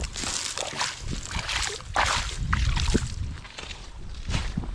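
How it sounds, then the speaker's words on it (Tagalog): Irrigation water flowing and sloshing into an onion field, irregular splashing and gurgling surges up close, uneven in loudness across the stretch. "hanggang sa kasakamote ito nakakabot ang tubig nagkakatubig na rin oh."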